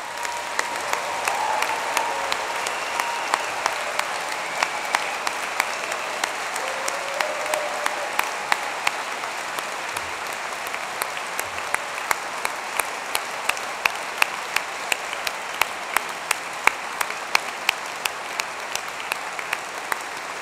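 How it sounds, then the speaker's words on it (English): Sustained applause from a large audience at a university degree ceremony in Manchester, as graduates stand for a final round; dense, steady clapping fills the whole stretch with a few sharper claps standing out near the front. "for everyone here to join me in giving them one final huge round of applause"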